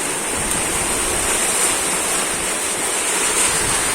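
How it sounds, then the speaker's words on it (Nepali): Heavy rain pours down steadily over a maize field during weeding, a dense, loud, unbroken hiss with no voices. "अहिले कत्रो पानी परेको"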